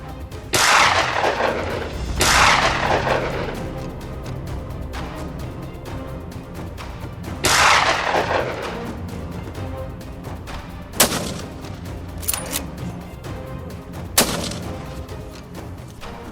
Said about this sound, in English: A burst of gunfire rang out and 3 of the boars fell instantly